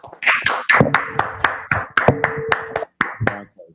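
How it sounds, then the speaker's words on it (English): Small congregation clapping during a religious class, a handful of loud, separate claps in an uneven rhythm with brief gaps, close by, with faint voices between them. "Clap it up. Clap it up."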